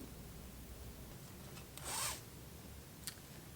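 A pink zipper is pulled once in a quick, soft rasping zip, with a brief click a second later, faint and close against a steady background hiss.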